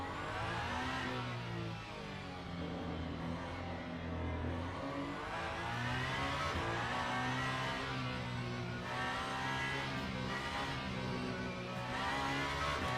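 A race car engine in Le Mans Ultimate drones steadily as it laps the low-grip Interlagos circuit, a continuous whining hum with slight pitch shifts as it rises and falls through the gears.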